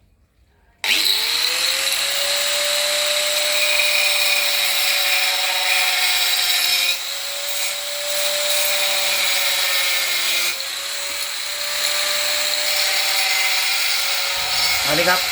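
An angle grinder whines at a steady high pitch for several seconds, briefly easing and resuming as it cuts through ceiling board for a bathroom ceiling.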